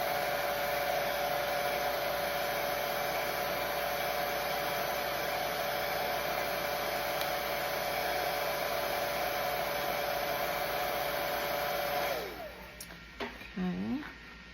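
A hair dryer-style hot air tool on its low setting blows in a steady, close whir for about twelve seconds, then cuts off and leaves a quieter room with faint sounds.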